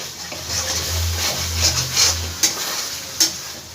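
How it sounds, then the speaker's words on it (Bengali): Spice paste frying in oil for a jackfruit curry, a soft continuous sizzle with a low hum underneath and a few sharp scraping clinks of a spoon stirring the pan. "সম্পূর্ণ মশলাটাকে আমি খুব ভালো করে ভেজে নেবো যতক্ষণ না মশলা থেকে তেলটা ছেড়ে দিচ্ছে"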